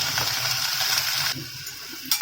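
Green chilies and shallots frying in oil with cumin in a pressure cooker, a steady close sizzle that drops suddenly partway through, then a brief clatter near the end; no talking.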